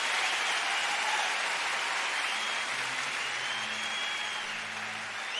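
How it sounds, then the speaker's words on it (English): Concert audience applause from a 70s rock show, a steady wash of distant clapping and crowd noise that stays even and continuous. "Well-deserved applause."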